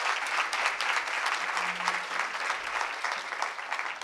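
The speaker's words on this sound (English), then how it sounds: "let's give the panelists a round of applause." An audience at a winners panel event applauds the panelists, a steady dense patter of many hands clapping close and loud throughout, without a break and with no voices over it.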